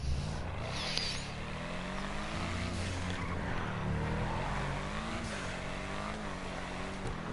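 Engine drone from a Nissan Skyline in GTA V Online, a steady buzzy hum with harmonic layers that rise and dip slightly as the car drives, continuous and fairly loud throughout with no voices.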